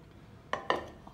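A pressure cooker in a home kitchen, about to be filled with mutton, is handled: two sharp metallic clanks close together as the pot is lifted and set down, near and moderately loud, with no talk.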